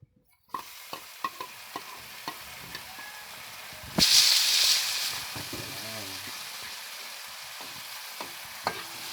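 Tomatoes hitting a pan of garlic and onion bring a sudden loud sizzle burst that eases into a quieter frying hiss, with spatula taps and a voice talking softly nearby.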